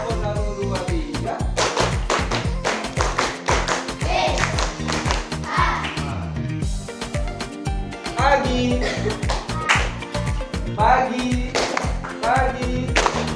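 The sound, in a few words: hand clapping in a counted clap pattern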